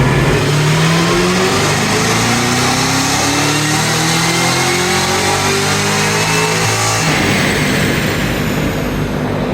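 A Cadillac CT5-V Blackwing's supercharged engine revs hard at full power, pitch climbing steadily for several seconds before dropping off abruptly, loud and close.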